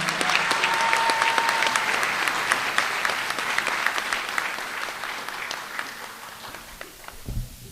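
An audience applauds at an adult education graduation ceremony where high school diplomas are awarded, with sustained, even clapping that stays fairly loud before slowly tapering off, and a brief thump near the end.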